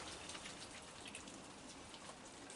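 A faint, steady patter of rain falling outdoors at night, with soft drops hitting surfaces continuously and no voices.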